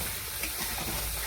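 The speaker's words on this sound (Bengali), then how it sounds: "মশলাটাকে একটু ভালো করে ভেজে নেব" Spice paste fries in hot oil in a home kitchen pan, a continuous dense sizzle and crackle with faint stirring scrapes, close and steady with no talking.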